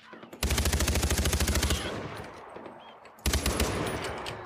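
Rapid automatic gunfire from the Far Cry 4 video game, two loud bursts: a sustained rattling volley of about a second and a half, then a pause with lingering noise, and a second burst near the end.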